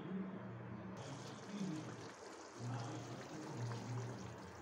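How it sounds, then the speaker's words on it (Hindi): Water poured into a simmering arbi leaf (colocasia) curry masala, a steady soft pouring and bubbling wash with low rumbling underneath. "अब इसमें डालेंगे हम पानी ग्रेवी के अनुसार"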